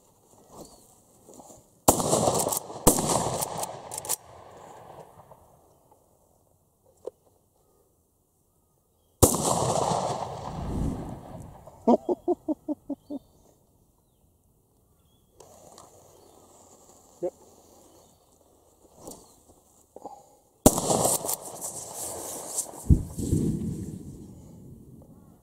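An Uzkon LA887 lever action shotgun fires 36 gram AAA shot outdoors: several loud, sharp blasts spaced seconds apart, each with a ringing tail, plus metallic lever clicks and brief talk between shots.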